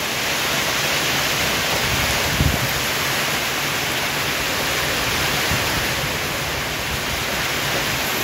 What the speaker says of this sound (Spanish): Pues lluvia, no hay mucha, es más viento que lluvia.